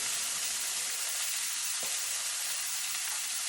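Chicken pan-roasting beside gnocchi in a hot pan, a loud continuous sizzle close up with a brief clank as the chicken is flipped and the gnocchi stirred.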